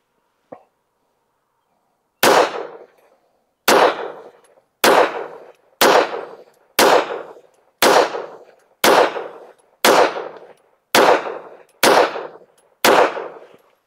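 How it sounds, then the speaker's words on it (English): A Girsan MC P35 OPS pistol fires a ten-shot group at a target, sharp reports spaced roughly one to one and a half seconds apart, loud and clear with no talking. "let's shoot a 10 shot group at the top right target"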